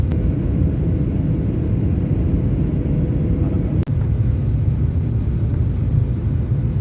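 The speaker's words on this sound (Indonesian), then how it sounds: "Kis, itu ada pesawat minta es krim yuk" An airplane passes overhead outdoors on a morning walk, a loud, continuous low rumble and roar that stays steady throughout, broken by one brief sharp click.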